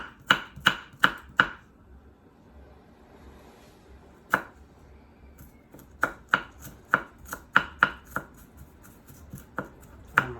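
A knife chops food on a cutting board in sharp, close taps: a quick burst of four, a pause, one lone strike, then an irregular run of about a dozen more.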